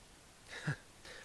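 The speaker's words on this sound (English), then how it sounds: "over here sneezing at me" A single short sneeze close by, a brief burst in an otherwise quiet room with no talking.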